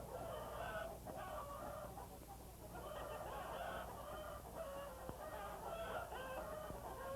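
Hens cluck and murmur continuously in overlapping bursts, a busy flock heard close with steady rhythm and no talking.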